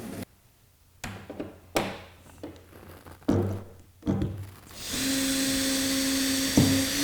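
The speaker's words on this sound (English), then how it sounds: "So with those holes drilled," A power drill bores holes across a wide wooden workbench top using a drill guide, with several short bursts and knocks of handling, then a sustained whirring drill run near the microphone with no talking.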